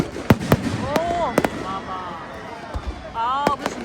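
Fireworks burst over the Ravan Dahan effigy burning at a Vijayadashami celebration in Nainital, with several sharp cracks and whistling rockets rising overhead. A crowd murmurs throughout and voices carry faintly underneath.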